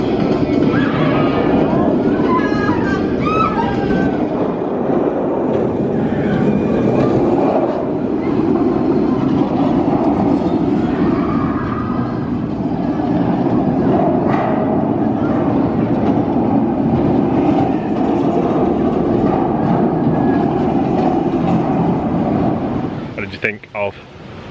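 Speed roller coaster at Oakwood Theme Park running: a loud, continuous rushing roar and rumble of the ride, with faint voices buried in the noise, ending in a brief clatter as it slows.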